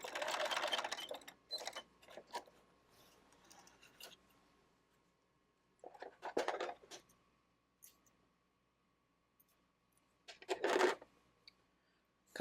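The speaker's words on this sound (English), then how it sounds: "sew right in the crease all the way down to the corner" A sewing machine stitches quilt binding along a pressed crease in three quick bursts, with quiet pauses and small handling sounds in between.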